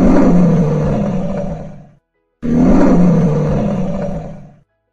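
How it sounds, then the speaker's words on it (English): A lion gives two loud, close roars of about two seconds each, separated by a brief silence, with nothing else audible. "A lion roars."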